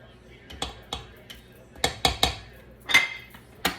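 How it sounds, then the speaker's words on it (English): Cranberry walnut snowball cookie dough being mixed in a bowl, with a string of sharp utensil clinks and knocks against the bowl, several irregular hits close by over a quiet background. "Mix a little bit more."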